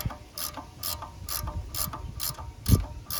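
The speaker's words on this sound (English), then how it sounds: "Let's go ahead and get our wrench on that. That's 14 millimeter." A 14 mm ratchet wrench loosening a bolt on a 2001-04 Kia Rio belt gives a close, regular series of about seven crisp clicks, with a heavier knock near the end.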